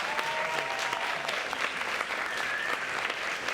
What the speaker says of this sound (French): Applaudissez.